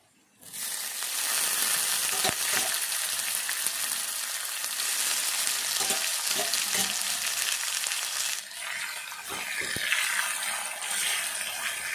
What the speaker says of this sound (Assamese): এতিয়া মই সিজাই ৰখা কচুলতিখিনি দি দিম।